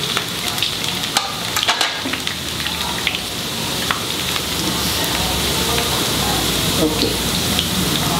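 Chopped ginger and garlic frying in hot oil for a Goan mackerel pickle; a loud, dense, continuous sizzle fills the scene up close, and a voice speaks briefly over it.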